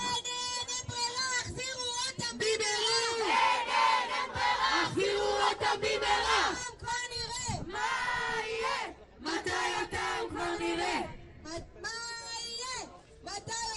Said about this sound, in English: We're in the middle of a protest here in Tel Aviv